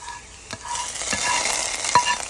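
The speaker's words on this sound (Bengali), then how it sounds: "রসুন কুচি আর পেঁয়াজ কুচি দিয়ে আমরা বাগার দিয়ে দিব।" Chopped garlic and onion tempered in hot oil, giving a steady moderate sizzle with a few sharp stirring scrapes and clinks, close by and without talk.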